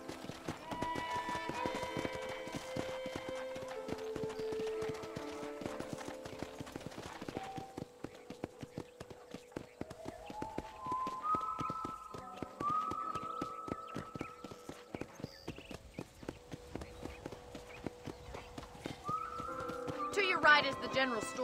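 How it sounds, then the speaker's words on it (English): Steady clip-clop of horse hooves trotting beneath a musical score in Red Dead Redemption, with a short neigh near the end. "let's see if you can still ride a horse"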